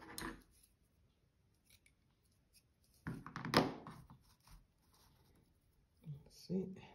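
Scissors snip through paper or string while making a snowman craft, a few short cutting bursts near the mic, with quiet speech in the background between the cuts.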